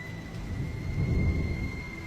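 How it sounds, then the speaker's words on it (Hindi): Low thunder rumbles steadily beneath a soft wash of falling rain, used as a sound effect in a storytelling piece; a faint steady tone sits over it and no one speaks. "तभी आसमान में जोर जोर से बादल गरज उठे और बारिश होने लगती है।"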